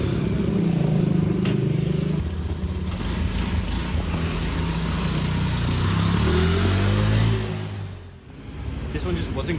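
A 125cc motorbike on a test ride in Bali: the engine revs and pulls away, a mid-pitched drone rising and falling with the throttle, close and loud, fading briefly near the end before picking up again.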